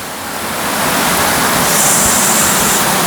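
Roaring water pours down a waterfall at Cheppara rock garden, a loud, dense, continuous hiss that swells over the first second and then holds steady up close, with no voices heard.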